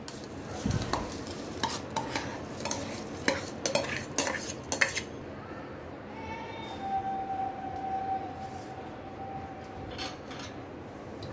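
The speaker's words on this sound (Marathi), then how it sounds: "आता ह्या कोलंबीमध्ये मी हे तांदूळ मिक्स करणार आहे।" Rice stirred into prawns in a pan for khichdi: busy spoon scraping and metallic clatter for about five seconds, then quieter occasional taps and a light sizzle.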